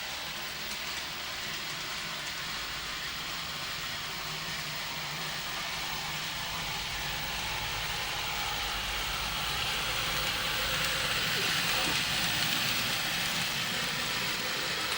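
A Graham Farish Class 319 model train runs at low speed around a super-elevated curve, giving a steady, continuous motor whir and wheel rumble, close and fairly loud, with no talking.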